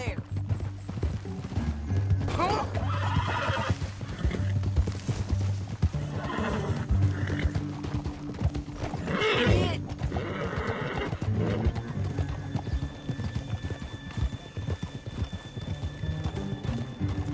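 Horses gallop with steady clip-clop hoofbeats and give a few loud whinnies, heard throughout under a dense soundtrack with an action-film feel.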